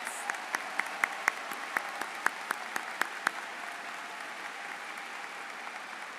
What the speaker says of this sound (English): Please join me in a round of applause for our IB Diploma Program candidates